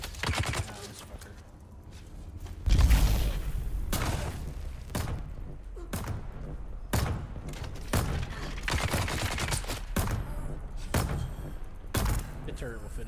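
Turret gunfire in a video game crackles in repeated bursts of sharp shots, loud and close, mixed with other game effects.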